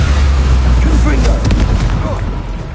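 A Confringo blasting spell from the Hogwarts Legacy video game detonates with a heavy booming blast and rumbling low end. A voice talks over it.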